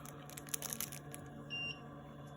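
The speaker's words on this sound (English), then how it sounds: "So that creates a beep" An electronic beep from the seat sensor on a wash/dry toilet lift with warm water, warm seat and deodorizer functions, a short, faint tone of roughly a quarter second standing above low background noise.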